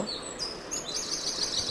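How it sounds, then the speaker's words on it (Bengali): Faint birds chirping at a distance on a foggy morning in a village in Satkhira, thin high calls over a steady outdoor hiss. "পাখির কিচিরমিচির শব্দ,"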